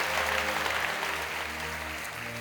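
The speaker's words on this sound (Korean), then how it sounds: "여러분께 박수로 환영하시죠." A church congregation applauds in welcome during a Sunday worship service, a steady wash of clapping from many hands that holds at an even level throughout, with some organ or keyboard tones sustained underneath.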